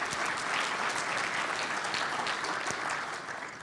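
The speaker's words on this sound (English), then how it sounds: "Big round of applause for her" Full, continuous audience applause for a presenter at a seminar, many hands clapping in a dense even wash that tapers slightly at the end.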